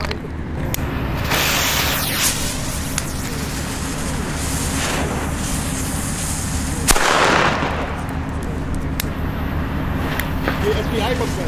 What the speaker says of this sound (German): So, weiter geht's hier mit den Pyroland-Böllern.